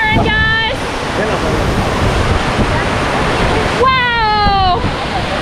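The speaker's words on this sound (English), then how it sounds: "we're waiting for our turn to take on this Bell of the Ride waterfall" El Chiflon waterfall in Chiapas, Mexico roars loud and steady as a constant rushing wash, with short voice-like calls rising above it near the start and end.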